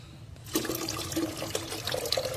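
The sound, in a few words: water being poured and mixed into a container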